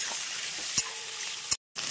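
Chicken frying with onions in a pan, a soft continuous sizzle broken by a couple of quick utensil scrapes and a short silent gap near the end.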